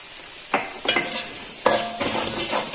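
Spices and salt being stirred in a hot pan of oil for garlic pickle, with scraping strokes of the spoon over a steady low sizzle, a few sharper clatters standing out.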